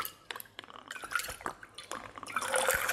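Liquid poured from a bottle fitted with a pour spout in a Vegas-style flair bartending pour, a faint trickling and splashing stream into a glass that builds toward the end, close by and without talking.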